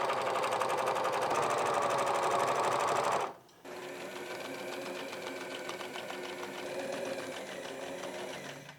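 A sewing machine stitches the side seams of a button-up shirt in a fast, steady whir, pauses briefly, then resumes at a slightly softer, even pace, close and alone.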